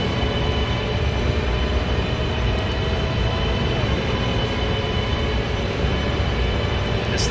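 A Chinese CRH2A high-speed bullet train, based on a Japanese design, picks up speed in Train Sim '15, a steady loud broadband rumble and rolling roar that holds throughout with no talk.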